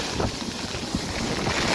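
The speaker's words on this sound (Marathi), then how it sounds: "हा पडत असलेला पाऊस आणि वारा" Steady rain and gusting wind at Radhanagari dam, beside its automatic spillway gates during heavy monsoon rain, forming a dense, continuous wash of noise with wind buffeting the microphone throughout.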